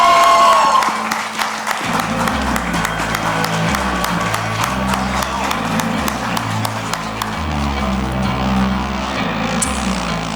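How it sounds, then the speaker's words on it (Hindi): Audience applause and cheering greet Farhan Akhtar, producer of Mirzapur, as he arrives at a Season 3 press event, sustained throughout beneath loud music with a heavy stepping bassline. "जोरदार तालियों से स्वागत कीजिए फरहान अख्तर"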